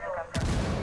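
A single sharp gunshot in the tactical shooter game Ghost Recon Wildlands, a sudden loud crack with a brief booming tail.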